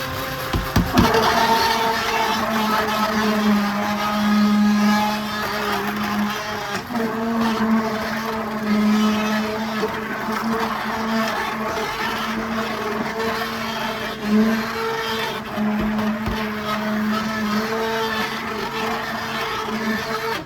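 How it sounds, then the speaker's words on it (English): A stick blender emulsifying a batch of goat's milk soap churns with a loud, steady motor whir, pulsing slightly as it moves through the mixture for about twenty seconds without pause. "we're going to plug in our stick blender and we're going to start emulsifying this together"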